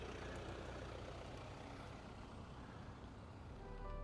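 Small cheap city-car engines from a Volkswagen Up!, Hyundai i10 and Suzuki Celerio run together, a steady, faint, thin engine drone with no breaks.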